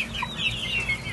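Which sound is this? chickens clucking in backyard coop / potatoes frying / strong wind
chickens clucking in backyard coop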